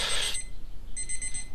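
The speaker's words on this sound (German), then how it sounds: "Hört sich an wie so ein Wecker" An alarm clock in Dead Space 3 beeps in rapid electronic pulses, a loud burst at the start followed by a shorter, fainter run of beeps after a brief gap.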